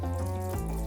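Water poured onto a character's hair in a K-pop makeover video game, a steady running, tap-like flow with bright game music tones beneath it.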